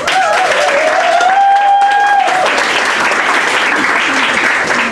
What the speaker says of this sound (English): you get a round of applause for just having his name said on stage